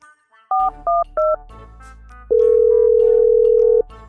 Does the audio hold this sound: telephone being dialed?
yes